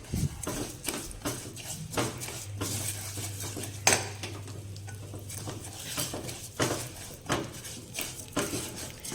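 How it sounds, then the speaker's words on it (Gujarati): Broken wheat sautés in ghee in a pot, with a metal spoon scraping and clinking against the pot in irregular bursts over a faint background hum. "હવે આ ઘીમાં આપણે ફાડા ઉમેરી દઈશું અને મીડિયમ ગેસ રાખી આપણે તેને સાંતળી લઈશું."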